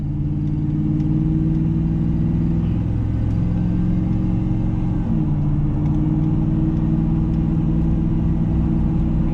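A lifted 2002 Chevrolet Silverado 2500HD truck drives along with a steady, loud low engine rumble and road drone, a brief shift in tone midway, heard from inside the cab with no talk.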